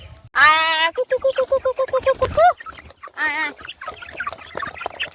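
Chickens cluck close by in a rapid run of short rhythmic clucks, with a couple of longer squawking calls and softer clucking afterward.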